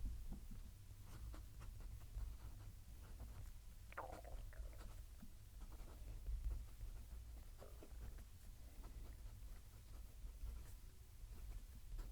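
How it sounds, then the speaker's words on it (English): A Narwhal Schuylkill fountain pen writes a sentence on paper, the nib giving faint, close scratchy strokes in short bursts over a low, steady background hum. "Let's move the mic down to the paper and we'll write a sentence."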